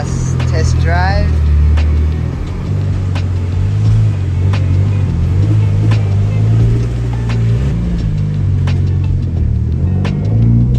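A car on a test drive in Japan hums with a steady, low engine rumble that rises and falls slightly, with a brief voice near the start.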